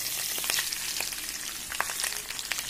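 Curry leaves frying in hot oil give a dense, continuous sizzle with scattered sharp pops and crackles, close and loud, with no voices.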